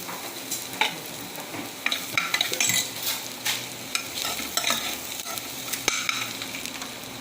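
Onions sautéing in a pan for a simple chicken gravy, a steady sizzle and frying hiss broken by scraping stirs and occasional utensil clinks, close and continuous with no talk.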